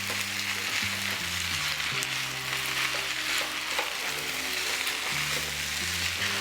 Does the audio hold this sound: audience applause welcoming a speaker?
no